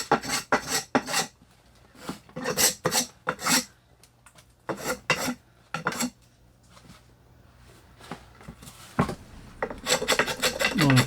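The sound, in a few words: blade shaving wood on an axe handle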